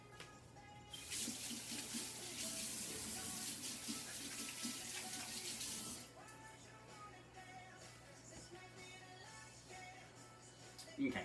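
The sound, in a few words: water running from a tap while washing hands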